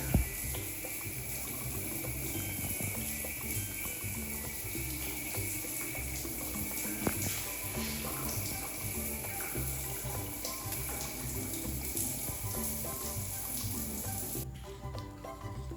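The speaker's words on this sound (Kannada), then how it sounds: "ವರ್ಕೌಟ್ ಆದಮೇಲೆ ಮತ್ತೆ ಶವರು, ಸ್ನಾನ ಮಾಡಬೇಕು" Water running steadily from a shower during a bath after a workout, a continuous close hiss and spatter that stops abruptly near the end.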